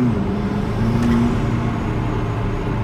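A McLaren MP4-12C engine rumbles close by with a deep, raspy, steady tone, without much rise or fall.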